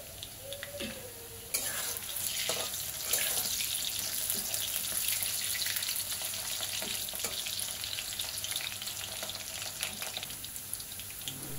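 Quartered potatoes fry in hot mustard oil with a steady, dense sizzle that runs continuously and fairly loudly with no talking over it.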